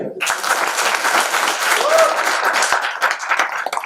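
An audience at a theatre production of a Mahabharata play claps in a dense, sustained burst of applause that fills the hall throughout, with faint voices underneath.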